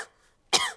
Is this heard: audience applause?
no